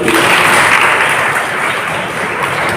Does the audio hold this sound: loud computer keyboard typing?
no